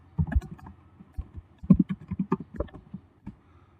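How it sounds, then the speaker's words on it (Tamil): Keystrokes on a computer keyboard running Windows 11, heard as a close, irregular burst of quick clicky taps at a steady working pace, with no talk over them. "இப்போ நாங்கள் டைப் பண்ணணும் அப்படின்னா நாங்கள் வந்து இப்படி டைப் பண்ணிக்கிடலாம்"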